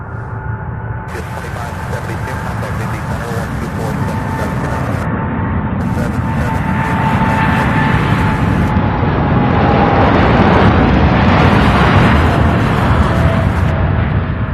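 A UPS Boeing 747 cargo jet bound for Anchorage takes off, its broad engine roar steady and loud, swelling slightly over the whole stretch and filling the low end, with no voices on top.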